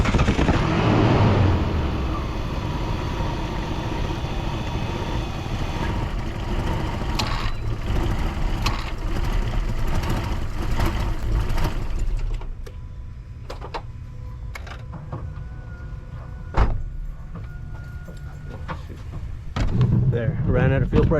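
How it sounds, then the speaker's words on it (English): A Mitsubishi Montero engine runs with a rough, ticking idle for about twelve seconds, then shuts off as its fuel pressure runs out, leaving quieter clicks and knocks with someone talking. "ran out of fuel pressure and the engine shut off"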